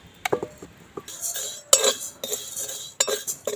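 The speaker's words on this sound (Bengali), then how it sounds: "নামিয়ে নিচ্ছে চিড়েগুলো এই থালার মধ্যে ঢেলে নেব" Crisp fried flattened rice (chira) being poured and scraped onto a metal plate, giving a string of close, bright clinks and rustling rattles.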